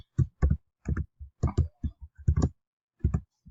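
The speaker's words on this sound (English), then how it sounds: "Sorry that you're watching me just type this in" Keys clack on a computer keyboard in short, irregular bursts of a few taps each, crisp and close in a quiet room.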